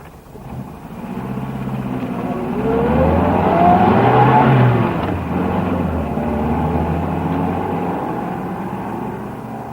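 A car in a radio drama pulls away, its engine revving up and rising in pitch before settling into a steady drive, loud and close with no talking.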